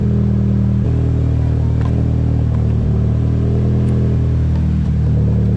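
A Nissan 240SX fitted with an ISR exhaust and resonator idles steadily, a constant low rumble with a slight rhythmic lope, close and fairly loud, with no voices.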